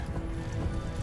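Galloping hooves of a horse in the video game Mount and Blade II Bannerlord pound in a fast, steady, close rhythm, with faint neighing mixed into the clatter.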